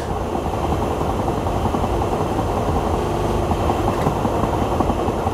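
A steady, droning rumble of a Class 442 train in a video game, with a constant mechanical hum, no voices, continuing evenly throughout.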